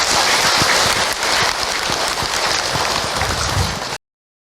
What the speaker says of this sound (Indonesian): Tepuk tangan buat Bunda semua